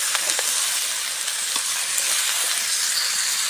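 Radish, eggplant, cauliflower, potato and fish fry in a pan over a clay stove, giving a steady, loud sizzle dotted with small crackles and pops, with no talking.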